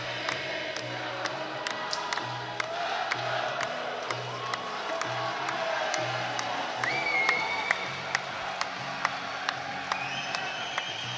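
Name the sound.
boxing crowd clapping along to a song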